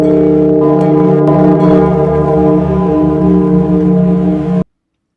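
A resonant bell with a long sustained ringing tone, loud and steady with no speech, cutting off abruptly near the end, marking the trading session open on futures markets.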